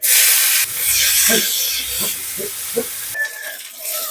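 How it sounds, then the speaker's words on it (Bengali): Chopped onion dropped into hot oil already seasoned with black cumin seeds and bay leaf gives a loud burst of hissing sizzle that settles into a softer fry, with a few light utensil taps and clinks. "এবারে দিয়ে দেবো পেঁয়াজ কুচি"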